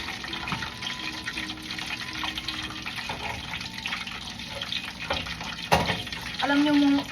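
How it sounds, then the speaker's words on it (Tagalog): Water sprinkled into a pan of frying pork crispy pata in a home kitchen, giving steady crackling sizzle with scattered pops and a brief sharp hiss, then a short voiced sound at the end. "wiwisikan po natin ng tubig para lalong mag-crispy yung crispy pata natin"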